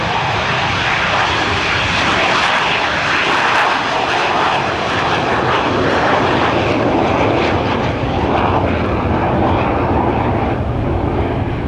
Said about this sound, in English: the AV-8B Harrier is going to do its short takeoff capability